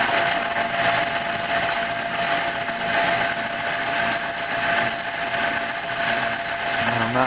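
A lathe cuts a new brass contrate wheel for a carriage clock, a loud continuous high whine with a steady metallic hum and no chatter, close and without talk.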